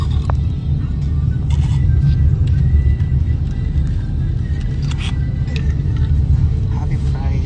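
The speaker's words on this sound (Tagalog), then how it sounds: "Traffic." Road traffic noise picked up during a phone livestream on a poor connection, a constant low rumble of vehicles with a steady hum and faint higher clatter, loud and unbroken from start to finish.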